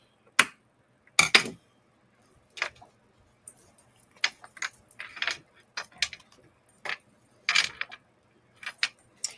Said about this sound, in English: Can y'all hear the bracelet hitting?